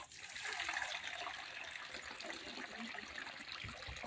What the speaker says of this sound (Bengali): টক জলটা তৈরি করে দিব, দিয়ে দিব পরিমাণ মতো জল